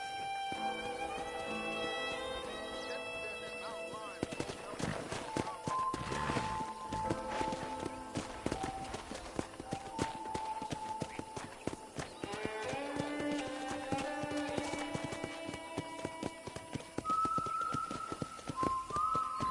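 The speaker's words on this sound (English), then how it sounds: "let's see if you can still ride a horse." Horse hooves clip-clop at a steady walking rhythm in the Red Dead Redemption video game, close and clear, with background music and occasional whistled tones over the hoofbeats.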